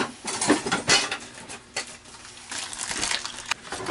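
A metal camping cookware kit of frying pan, pots, lids and cutlery clinks and rattles as pieces are handled, with scattered light clatters and scrapes in an irregular rhythm.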